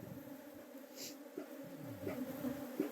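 Honeybees buzz at an opened hive during colony handling, a dense, faint, continuous drone with a few louder passes from individual bees flying close, and nobody talks.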